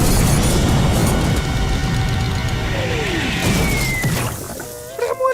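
A volatile potion explodes in a SpongeBob cartoon: a descending whistle leads into a boom, followed by fizzing and ringing cartoon effects near the end.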